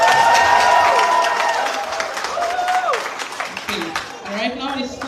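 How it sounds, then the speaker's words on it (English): Audience applause and cheering at a primary school graduation ceremony, a loud dense clatter of clapping that fades gradually, with voices talking over it. "another round of applause."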